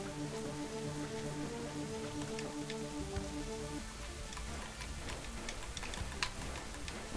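Rain falling in the video game Gun Monkeys, a steady patter of drops with rhythmic ticking over a sustained tonal drone that fades partway through, moderately loud with no talking.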